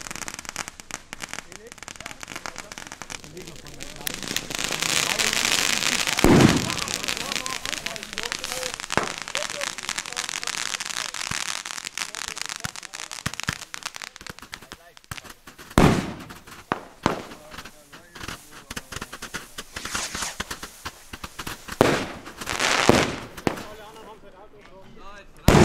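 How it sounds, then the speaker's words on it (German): A Weco Kometensturm 100-shot firework battery fires in a long rapid run of crackling bursts, loud and continuous for most of the stretch, with several sharper booming shots standing out near the end. "Weiter geht es, und zwar mit der Kometensturmbatterie 100 Schuss"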